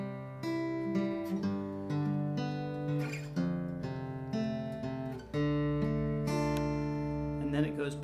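Clean guitar picks out a riff alone, single notes and paired strings ringing in a steady, moderately quiet pattern with no talking.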